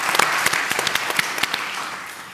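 A small audience at a forum stage claps briefly, a short burst of distinct, fairly close hand claps with no talking.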